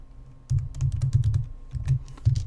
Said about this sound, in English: If you don't know the command to add stats, you can see I'm typing it right here.